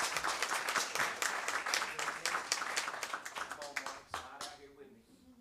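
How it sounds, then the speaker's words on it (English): Applause from a board meeting audience, many hands clapping steadily at moderate distance for about five seconds before thinning out and fading near the end. "Round of applause."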